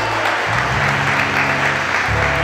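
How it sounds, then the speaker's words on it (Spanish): Applause for the Virgin Mary at a Catholic religious gathering, a steady crowd clapping that carries on throughout with sustained musical tones underneath. "Denle un fuerte aplauso a la Virgen María"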